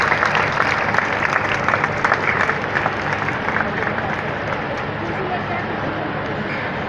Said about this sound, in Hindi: कृपया जोरदार तालियों से अतिथिगणों का स्वागत करें